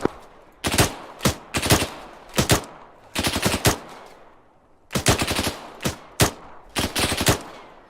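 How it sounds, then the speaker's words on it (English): Rapid rifle fire at a barn in ARMA 3 comes in loud, sharp clusters of shots, short bursts separated by brief pauses with echoing tails. "Rapid fire on the barn."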